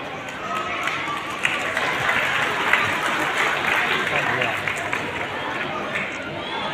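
An audience at a school annual function at Lajpat Bhawan, Motijheel, Kanpur claps in a sustained, dense burst of applause with crowd murmur and voices mixed in, moderately loud and steady throughout.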